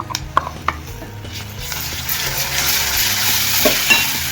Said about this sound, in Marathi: आणि याला पण चांगलं परतून घेऊ आपण.